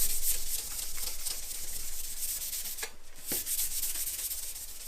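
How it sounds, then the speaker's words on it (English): Scotch-Brite pad scuffing aircraft sheet metal while building a Zenith 701 experimental airplane, a steady, close, hissing rub with short back-and-forth strokes. "Go to your Scotch-Brite pad."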